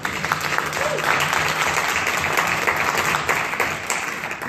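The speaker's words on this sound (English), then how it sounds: "why don't we give a round of applause to all the people that make this happen" Audience applause in a conference room at a cannabis medicine panel, steady dense clapping sustained evenly throughout with a faint murmur beneath.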